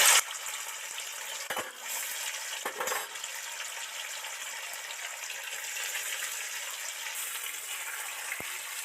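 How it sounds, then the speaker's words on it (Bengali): Paneer sizzles steadily in hot oil close by, a continuous crackling hiss, with a couple of sharp utensil clinks early on. "এবার পনিরগুলো একটুখানি হালকা করে ভেজে নেব।"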